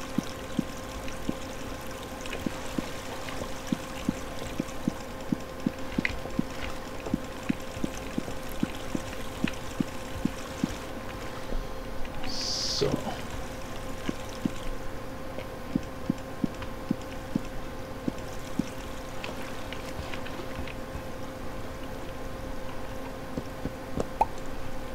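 Steady water flow with light dripping and pouring through a Minetest waterworks built on a creative server, a continuous trickling stream with small splashy drops scattered throughout, moderately loud and alone.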